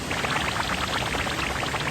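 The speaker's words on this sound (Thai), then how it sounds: "อยากให้ทุกคนลองฟังเสียงน้ำตกที่มันตกลงมานะคะ" Waterfall water pouring down steadily at Khlong Lan waterfall in Kamphaeng Phet, a loud continuous broadband rush with no voices.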